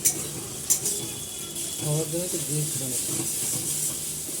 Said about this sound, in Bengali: ডিমটা ভাজা হয়ে গেছে তুলে নিচ্ছে